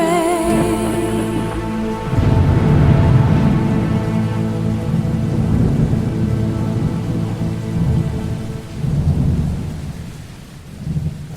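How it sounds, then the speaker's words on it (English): Heavy rain pours steadily while deep thunder rolls and rumbles through most of the stretch, swelling loud and then fading toward the end, with no voices. "You sit here in the darkness, listening to the"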